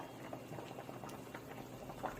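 Spicy braised chicken stew (dakbokkeumtang) with onion, green onion and chili simmering in a pot, a faint, steady bubbling and popping throughout, with no talk.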